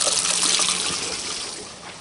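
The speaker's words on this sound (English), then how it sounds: "there's a pump behind the toilet that pumps the sewage uphill" A sewage pump behind a toilet pushes waste uphill, giving a steady rushing, trickling flow of water for the whole stretch, loud and close, fading slowly toward the end with no talking.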